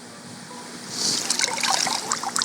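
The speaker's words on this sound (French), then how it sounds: "on les prend comme ça et on vient les plonger dans l'eau" Sneakers lowered into a tub of water for hydro dipping, a quiet start then trickling, splashing and dripping water as the shoes go under, close up and moderate in level.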